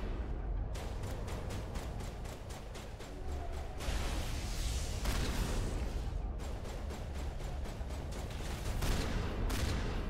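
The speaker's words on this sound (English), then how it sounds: "You're shooting a corpse, Donald." Rapid gunfire rattles in the Mass Effect video game, sustained bursts with short pauses, dense and steady at moderate loudness, with no voices over it.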